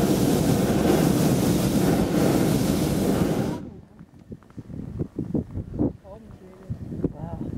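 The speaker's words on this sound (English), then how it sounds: "Now we feel the wind because we are stopping." Wind rushes loudly past the microphone on a hot air balloon ride, a dense steady roar that drops away midway, leaving quieter scattered knocks and rustles.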